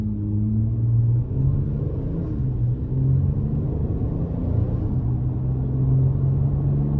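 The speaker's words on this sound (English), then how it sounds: "So not bad acceleration. I just gave it a little push there." A 2025 Ram 1500 Big Horn pickup with the V6 eTorque engine, heard from the cab while accelerating in sport mode, a steady low engine rumble and drone that swells slightly, no talk.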